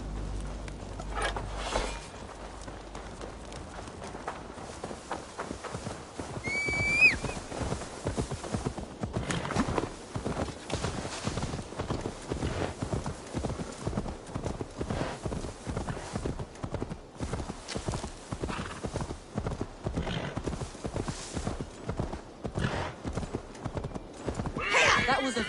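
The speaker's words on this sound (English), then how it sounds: "Now to deliver Magni his horse." Horse hooves clip-clop in a steady, regular rhythm throughout, with a brief whinny early on and soft ambient background, from the video game Assassin's Creed Valhalla.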